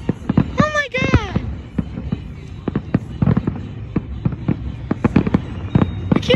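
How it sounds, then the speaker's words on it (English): Fireworks for the 4th of July pop and crackle in quick scattered bursts, with a couple of whistling rockets rising early, all heard from a moderate distance with faint background voices. "why they celebrate with fireworks"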